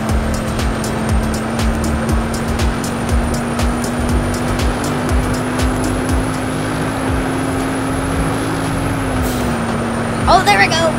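Blue Chevy Camaro racing in a Roblox video game, a steady synthetic engine drone holding one pitch for about nine seconds before dropping slightly, with a brief clatter near the end.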